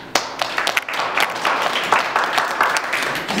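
An audience at a social entrepreneurs' forum bursts into applause, dense overlapping claps sustained for several seconds at moderate loudness without talk.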